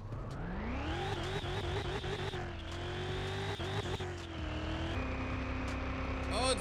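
Next-gen NASCAR race car with an 1100-horsepower engine in Car Mechanic Simulator 2021, revving upward through repeated gear changes with a bogging transmission, loud and continuous with steady engine pitch climbs and drops.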